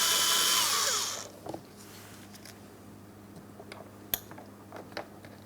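Power drill running steadily for about a second as it backs out a 10mm headed mounting bolt from a door panel port on a 2004-2008 Pontiac Grand Prix, then stopping, followed by faint clicks and small handling noises.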